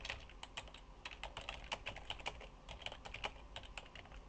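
Fingers typing a search query on a computer keyboard, a quick irregular run of light key clicks, close but quiet, without speech.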